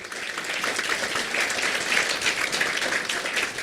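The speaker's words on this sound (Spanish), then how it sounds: "Yo quiero que le demos un aplauso a este hombre, porque en verdad un gran aplauso." A live audience applauds a man at a Spanish-language talk, a dense, steady wash of clapping that holds at an even level throughout.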